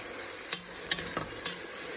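Chopped tomatoes for misal sizzle quietly in a pan while a spoon stirs them, giving several light scraping clicks over the soft hiss.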